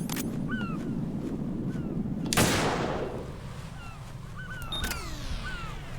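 Gunfire in Metal Gear Solid 2, shots fired through a flag: a few sharp cracks stand out over a dense, steady game soundscape, with one louder blast near the middle.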